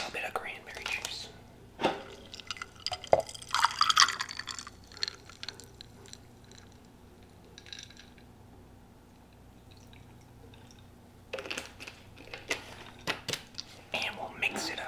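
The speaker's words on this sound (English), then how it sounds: "we'll top it off with a little bit of cranberry juice" Cranberry juice is poured into a Sex on the Beach cocktail glass in a quiet, close setting, brief liquid splashes and drips between soft whispering.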